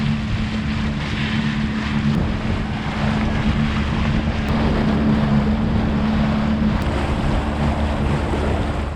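Yamaha VX Cruiser HO jet ski carrying extra fuel cans, running across open Lake Michigan, its engine drone loud and constant beneath rushing water, wave slaps and heavy wind buffeting.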